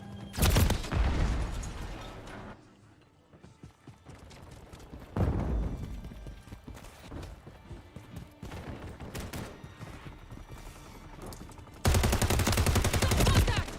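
Video game firefight with gunshots, bursts of rapid automatic fire and loud booming blasts, dense at the start and end with a quieter stretch of scattered shots in between.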